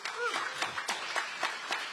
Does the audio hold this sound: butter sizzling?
no